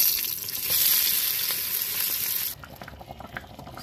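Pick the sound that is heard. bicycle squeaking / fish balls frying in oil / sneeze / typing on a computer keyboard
fish balls frying in oil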